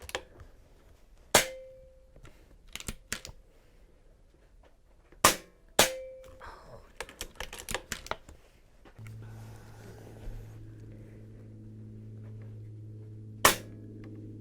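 Shots from an Air Arms S510 XS .25 airgun at golf balls set about 100 yards out during a shooting competition: several sharp, close cracks spaced irregularly, some followed by a brief ringing tone, with a low steady hum in the later part.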